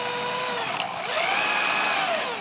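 A power drill whines steadily as it bores out a deadbolt lock, the motor pitch sliding and rising under load, loud and close with no talk.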